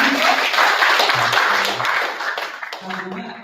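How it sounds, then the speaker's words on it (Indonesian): A short burst of applause from a high school audience during a bottle rocket event, clapping steadily and fading slightly toward the end, with some voices mixed in. "Boleh tepuk tangannya lagi."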